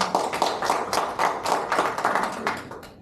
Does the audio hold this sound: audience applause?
yes